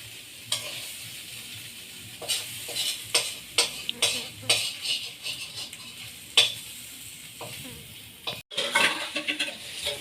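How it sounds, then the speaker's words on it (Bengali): Greens fry in a pan in a village kitchen with a low bubbling hiss, while a spatula scrapes and clatters against the pan in irregular bursts, close by, ending in a quick metallic clatter. "তরকারি রান্না করছে, শাক ভাজি করছে, চচ্চড়ি করছে"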